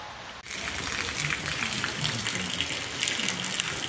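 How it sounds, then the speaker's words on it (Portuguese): Heavy rain pours down in a steady, dense hiss of water that begins abruptly and then continues at full strength. It is loud and close, with no talking. "Aí a água virar, muita chuva. Chuva perfeita."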